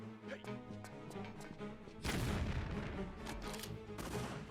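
A grenade explodes in Tomb Raider 3 inside Area 51, a sudden loud burst that turns into a dense rumbling roar. It follows a few seconds of game music and clicks.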